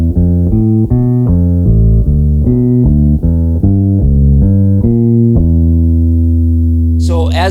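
A walking bass line is played on bass as a steady stream of distinct, evenly paced plucked notes, loud and close. A long held note rings at the end.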